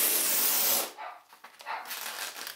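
Aerosol spray hisses onto the outside of a Mylar overlay on a pinball playfield in one close, steady burst of just under a second, followed by faint rubbing and handling sounds.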